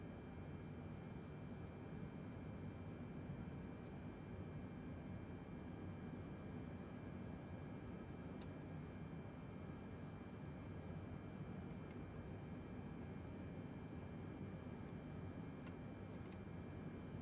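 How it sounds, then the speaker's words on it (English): Steady airliner engine spool-up in a flight simulator game as engine 4 starts, a continuous even drone with faint intermittent ticks, no talking. "okay, engine 4 is still starting."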